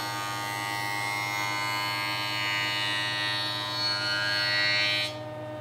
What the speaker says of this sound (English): I'm going to use my joiner.